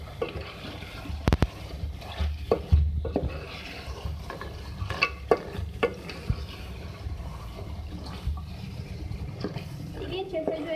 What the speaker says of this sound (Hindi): नमक डालने के बाद अब इसको चला लें, सही से अच्छे से मिक्स कर लें।